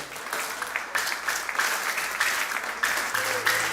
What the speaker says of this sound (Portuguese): Você pode aplaudir ao Senhor pela sua palavra?